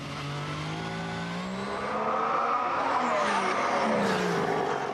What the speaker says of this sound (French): Peu importe pour Bottas, qui attaque cette fois la Ferrari de Raikkonen pour la 5e place